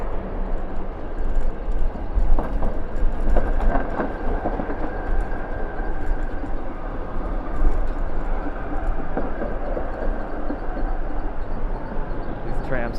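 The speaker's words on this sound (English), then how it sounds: "These trams are wide, so I can't squeeze by that one." Wide tram passing on Market Street in San Francisco, heard from a bicycle as a continuous rolling rumble with a sustained tone, close by and steady, with a person talking over it.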